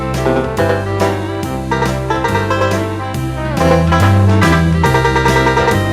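Lowrey electronic organ plays a rhythmic tune in a plucked, strummed string voice over a steady bass pattern, with no one talking.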